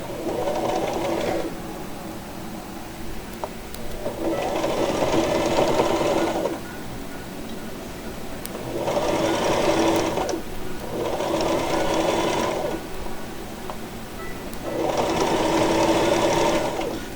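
Sewing machine stitching a corset belt, running in four bursts of rapid, even mechanical chatter, each a second or two long, separated by short quiet pauses, close and clear.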